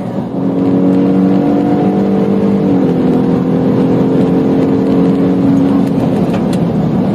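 A Ford F-150 EcoBoost fitted with a Whipple Stage 1 supercharger kit pulls hard at a drag strip, a loud steady engine drone rising slightly in pitch with supercharger whine, close and continuous.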